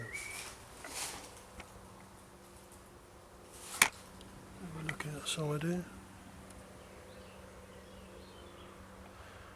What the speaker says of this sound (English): Full of mosquitoes.